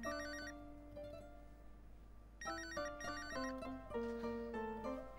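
A telephone rings with a bright electronic ringtone, a repeating melodic pattern of stepped tones that grows louder partway through, heard alone without talk.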